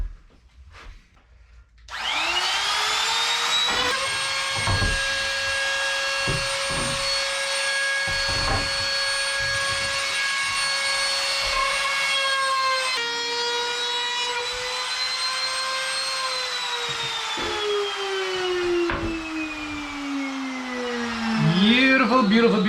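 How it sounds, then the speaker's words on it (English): A small trim router whines steadily at high pitch while cutting a 3/8-inch roundover on wooden boat steps, a continuous buzzing drone that shifts slightly in tone as the bit moves along. "two 3/8 round overs with this little trim motor."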